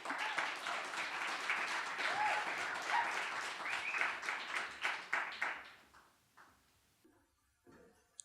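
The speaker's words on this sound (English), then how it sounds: "So please give a very, very warm round of applause for Mary Hansel." A small audience at a storytelling and poetry open mic applauds a poet coming up, with warm clapping that holds steady, then breaks into a few scattered last claps and dies to near silence.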